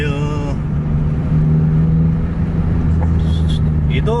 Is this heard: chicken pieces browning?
no